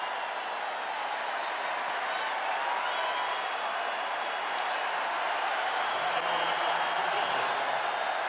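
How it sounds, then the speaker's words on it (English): Broad, steady crowd applause rolls through Neyland Stadium at a Tennessee football game against Arkansas, a distant, continuous roar of clapping and cheering that holds at an even level from start to finish. "You hear the applause."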